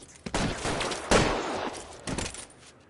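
Loud bursts of gunfire ring out in the video game L.A. Noire, in three distinct volleys of close, sharp shots with echoing tails.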